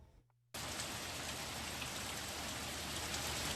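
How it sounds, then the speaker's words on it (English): Torrential rain pours down in a steady, dense roar during a Texas downpour that dropped over 10 inches in a few hours, starting abruptly after a brief quiet moment and continuing loud and unbroken. "Texas was hit with torrential downpour with over 10 inches of rain falling in just a few hours"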